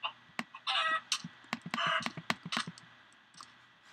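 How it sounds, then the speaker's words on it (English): Minecraft chickens clucking in short bursts alongside rapid clicking and tapping, a busy mix of brief bright squawks and clicks with no talk. "A chicken laid an egg"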